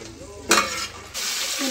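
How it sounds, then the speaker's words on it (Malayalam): Dried red chillies fry in sesame oil, a steady close sizzle with a brief louder burst of spitting and stirring midway, then the frying hiss continues. "അപ്പോൾ ഇതാ നല്ലെണ്ണയിൽ നിന്ന് നമ്മളിതാ വറ്റൽമുളക് കോരിയിട്ടുണ്ട് കേട്ടോ."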